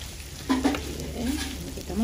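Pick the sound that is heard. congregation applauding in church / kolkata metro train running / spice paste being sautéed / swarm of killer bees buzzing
spice paste being sautéed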